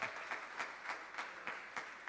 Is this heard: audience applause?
yes